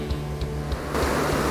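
Sea waves breaking on a rocky coast off Uljin, Korea, a steady roaring wash of surf with wind, swelling louder partway through and continuing without pause.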